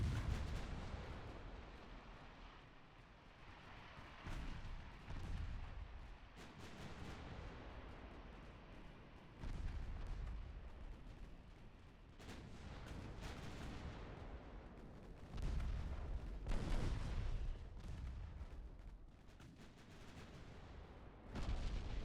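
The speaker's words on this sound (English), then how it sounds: "Have all the main guns fire at that guy. Keep all the secondary guns firing at that guy." In the naval strategy game Ultimate Admiral Dreadnoughts, battleship main and secondary guns fire in repeated heavy booms and rumbling blasts, with ongoing low-end roar throughout and no talking.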